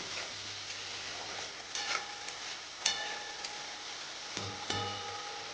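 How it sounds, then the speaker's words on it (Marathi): Masala paste roasting in a pan for a spiced drumstick (moringa pod) vegetable dish, with a soft steady sizzle and occasional scraping stirs of a spoon, close and low in level with no talk. "दोन मिनिटाला आपण भाजून घेऊ आपली मसाला वाटण"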